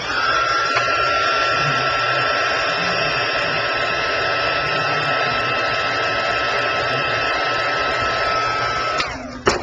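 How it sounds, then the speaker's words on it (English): A heat gun blows steadily at close range over a small painted area on a handmade butterfly artist trading card, a continuous airy roar with a whine on top that holds for about nine seconds and then cuts off. "And then I hit this with the heat gun as well."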